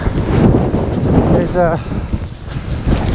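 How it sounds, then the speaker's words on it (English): Wind blowing across open countryside rushes as a steady broadband roar into the microphone throughout, with a brief whistling tone in the middle and a voice murmuring underneath. "You can probably tell from the wind"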